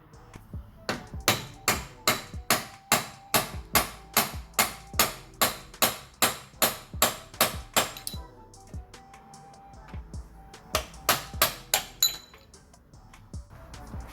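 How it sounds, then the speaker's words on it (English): Hammer blows on a chisel against the outer CV joint of a 2013 SEAT Ibiza, struck to free it from the hub: a fast, even run of loud metallic clanks, a short pause, then another burst of strikes. "I just give it some battering with this chisel in the middle here, no problem whatsoever"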